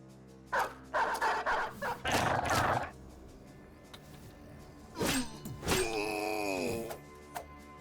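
Dogs in the video game Battle Brothers give bursts of growling barks and yips, then a long whining howl with a falling pitch, all loud and close with short gaps between.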